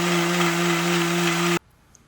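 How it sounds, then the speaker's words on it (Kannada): A mixer grinder blending masala paste with water whirs steadily at close range for about a second and a half, then cuts off abruptly into near silence. "ಸ್ವಲ್ಪ ವಾಟರ್ ಹಾಕ್ಕೊಂಡು ಈಗ ಮಿಕ್ಸಿ ಮಾಡ್ಕೊಳ್ಳೋಣ."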